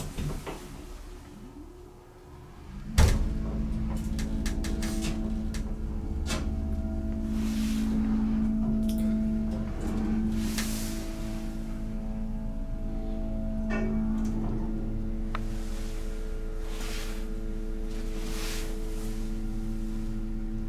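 A broken 1959 Montgomery elevator rides between floors: a sharp clunk as it starts, then a steady low motor hum with faint whining tones and soft knocks throughout, heard from inside the car.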